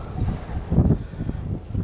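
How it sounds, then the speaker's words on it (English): Wind buffets a microphone outdoors at a metal detecting site, producing low, uneven rumbling gusts that swell and fade over a couple of seconds, with no voices. "Sorry about the wind."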